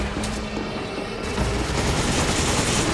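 Gunfire in the Resident Evil 5 video game sounds as a dense, continuous barrage of heavy shots and booms, loud and up close without a break, with no voices.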